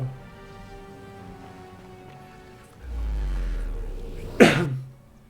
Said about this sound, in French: Oh, j'ai toussé, je suis désolé, le micro